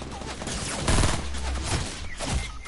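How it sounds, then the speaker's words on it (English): Gunfire in the Fortnite video game, a burst of rapid shots clustered in loud bursts over a few seconds, dense and close with short gaps between volleys. "We're getting shot at."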